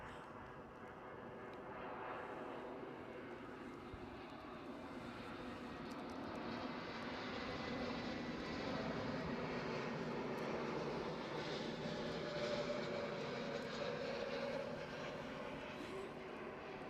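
An airplane inbound to Edinburgh airport rumbles steadily, its engine roar building gradually and peaking in the latter half before easing slightly.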